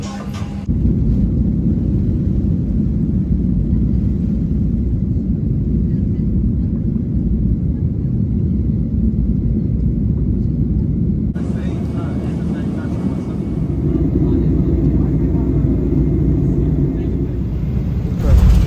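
Steady low engine rumble of an airliner landing at Baden-Baden throughout, a sustained roar that shifts in tone partway through as the plane settles onto the runway.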